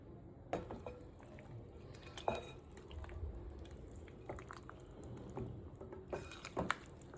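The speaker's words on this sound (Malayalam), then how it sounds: "ഒന്ന് ഇളക്കി നോക്കട്ടെ" Masala curry of breadfruit (kadachakka) being stirred in a pan in a Kerala home kitchen, with soft wet squelches and scattered clinks of the spoon, quiet and close, no speech.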